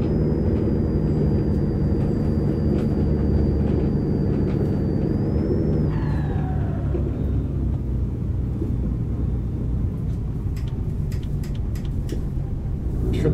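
A cattle truck grinds along a dirt road in third gear, its diesel roaring with a turbo whine that holds steady, then the pitch drops and the note shifts partway through, loud and close throughout.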